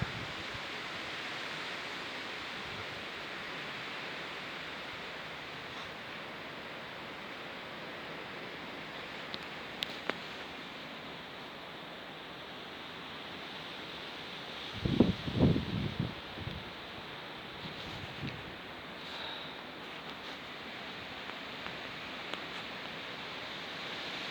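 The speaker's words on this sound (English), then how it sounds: "The wind has gotten up, but the sun has gotten out." Wind gusting through trees on an outdoor woodland walk, a steady broad rushing roar that fills the whole stretch, with a few brief closer rustles and knocks partway through and no talking.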